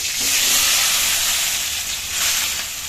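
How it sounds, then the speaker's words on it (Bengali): Prawns dropped into hot oil in a pan for malai curry, giving a loud, steady broadband hiss and sizzle that fills the whole stretch with slight swells, no talking. "তেল গরম হয়ে গেল এখন চিংড়ি মাছগুলো দিচ্ছি"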